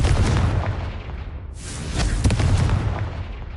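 The Confringo explosive spell goes off in Hogwarts Legacy as loud, booming blasts, with one burst at the start and another sharp explosion midway that rumbles heavily before fading.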